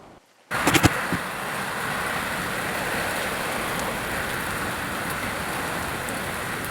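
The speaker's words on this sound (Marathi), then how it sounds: "पाऊस खूप वाढलेला आहे" Heavy rain pours down steadily and close by, a dense unbroken hiss that starts abruptly after a brief quiet moment and carries on alone with a few sharp knocks near the start.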